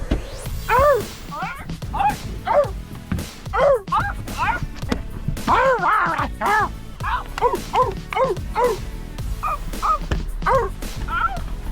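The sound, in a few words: person imitating a dog barking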